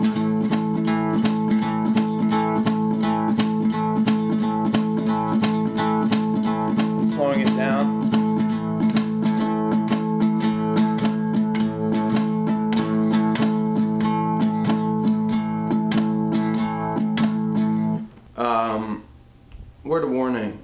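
A guitar plays in hill-country blues style, with a steady thumbed bass drone under rhythmic plucked notes at a driving tempo, close and even, before briefly cutting out near the end.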